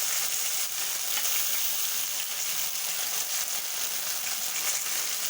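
Bhola fish frying in a pan with poppy seed paste, mustard paste, green chilli and ginger paste gives a dense, steady, close sizzle with faint crackle that runs unbroken for several seconds.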